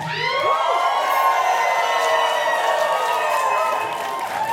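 Wrestling crowd at a pro wrestling league night in Kitsilano roaring, cheering and screaming continuously at a steady loud level, with shouts and whoops rising through the din.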